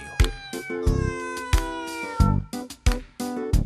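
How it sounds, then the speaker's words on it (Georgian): A cat meows repeatedly, about half a dozen clear, fairly loud, close meows in quick succession with short pauses between them. "ეს მელანო ვინ ყოფილა? კატაა თუ ადამიანი?"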